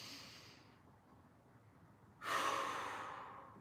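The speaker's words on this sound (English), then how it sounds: "Two more big breaths." Big, deep breaths taken during a mobility exercise session: a long airy exhale fades out, a quiet pause follows, then a strong, close inhale or exhale rushes in, heard alone with no talking.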